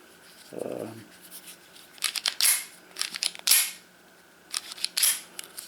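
Slide of a Ruger LCP-2 .380 ACP pocket pistol being pulled back and released, giving several short, close metallic clacks and scrapes spaced a second or so apart in a quiet room.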